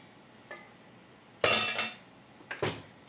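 Cake batter is stirred in a bowl as a utensil scrapes the sides and bottom, making three short, scraping clinks of metal on the bowl with quiet gaps between them.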